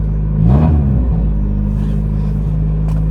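A car running through a replaced, overly loud muffler gives one quick rev over a heavy, steady exhaust rumble, recorded up close with no talking.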